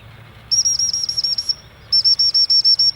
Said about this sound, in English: to bring him in is multiple quick whistles with the body language, both hands down at the side, palms out